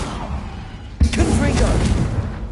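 A Confringo fire spell in Hogwarts Legacy goes off as a sharp, close blast, then a burst of crackling and whooshing that fades over the next second, with a voice speaking over it.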